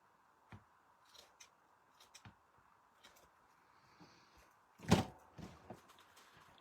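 Scissors trim paper for a handmade mini purse album: a series of crisp, close snips spaced irregularly, ending in a louder cut and a few soft handling taps.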